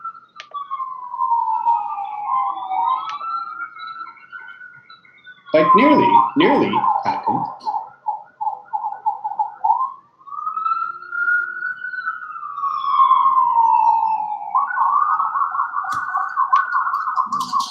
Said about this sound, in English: that's ambulances going past. And fire trucks.